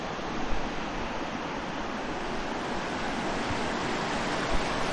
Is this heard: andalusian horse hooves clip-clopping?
no